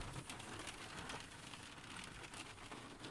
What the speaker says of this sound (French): Eh ben ça pleut à torrent